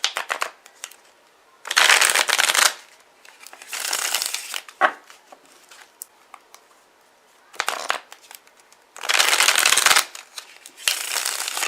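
Tarot cards are shuffled in several brisk riffling bursts, each lasting about a second, separated by quieter pauses with light handling clicks, close and crisp, alone without talk.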